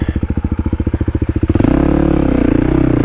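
A Kawasaki KLX300 dirt bike engine on a woods trail thumps in a fast, loud, steady rhythm close up, then rises into a higher, smoother revving drone as the rider accelerates.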